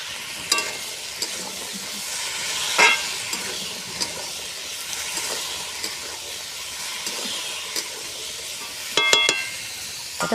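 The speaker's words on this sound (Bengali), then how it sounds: "এবার আলুগুলোকে আমি ভেজে নিচ্ছি।" Potato pieces frying in a pan with salt and turmeric, a soft steady sizzle with occasional stirring scrapes and clinks, fairly quiet and without talk.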